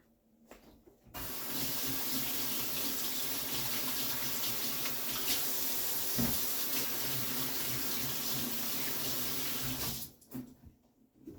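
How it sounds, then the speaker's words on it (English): A kitchen tap runs steadily for about nine seconds during handwashing, a continuous close splashing hiss that starts and stops abruptly, with no talking. "Now I'm definitely going to have to turn my back and wash my hands again."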